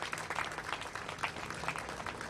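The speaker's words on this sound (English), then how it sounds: "Round of applause for you all." A brief burst of steady audience applause at a housing program announcement, dense overlapping clapping from a gathered crowd at moderate distance.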